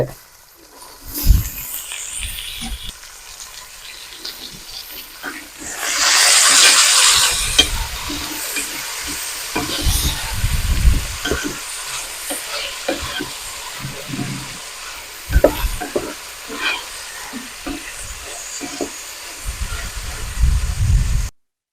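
Carrots, beans and soaked green peas frying in a pot for a village-style vegetable soya pulao, with a steady sizzle, a loud hissing burst partway through and irregular scraping stir strokes.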